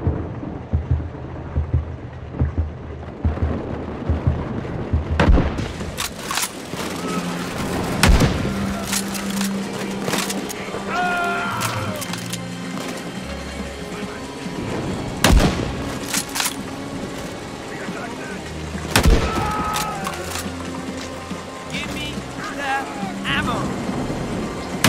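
Sharp gunshots and rumbling blasts in the war game Land of the War: The Beginning, scattered loud cracks over a steady low battlefield roar, with voices talking over parts of it.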